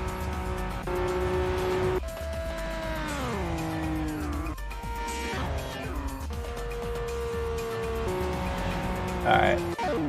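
Racing cars duel in the PSP street-racing game Street Supremacy, with a Toyota Supra in the fight; engine tones rise and fall continuously alongside shifting gear pitches, with a brief squeal near the end, sustained and fairly loud.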